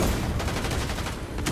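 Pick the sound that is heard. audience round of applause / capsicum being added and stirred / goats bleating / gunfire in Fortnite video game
gunfire in Fortnite video game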